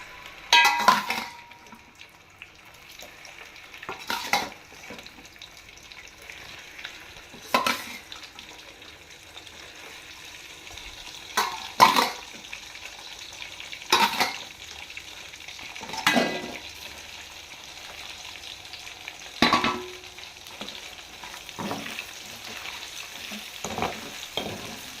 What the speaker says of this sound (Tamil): இப்போ இந்த இறாலை இதில் போட்டு பொரிக்க போகிறேன்.